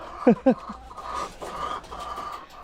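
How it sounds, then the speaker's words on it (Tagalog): Two short clucks from a chicken up close, followed by softer fowl murmurs against low background noise. "Ayan, nandito na yung mga manok."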